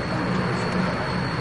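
An aircraft under airport police escort taxis toward a remote runway at Dubrovnik Airport, giving off a loud, continuous engine roar with a thin high whine riding steadily on top.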